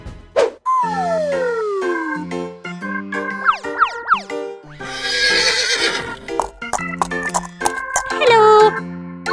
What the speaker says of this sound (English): Bring this horse out.